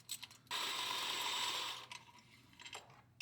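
A ratchet on a 14 mm bolt breaks loose the oil pan bracket bolt of a Nissan QR25DE engine in a B15 Sentra with one rapid clicking burst of about a second, then quieter shop noises.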